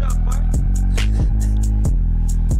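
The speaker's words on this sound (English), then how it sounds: "It literally is a sine wave, a bass sine wave" A low bass sine wave tone played back as a loud, continuous deep hum, stepping through a few notes, with short thumping pulses at intervals.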